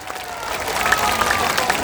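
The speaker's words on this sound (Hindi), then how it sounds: "जोर से बजाइए ताली" A crowd at a political rally in India claps loudly on the speaker's urging, a brief, dense burst of applause with crowd noise mixed in.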